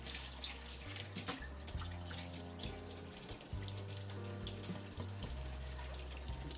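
Spinach being rinsed under a running kitchen tap, a close, steady rush of water splashing into the sink, with faint clatters from the leaves and no talk.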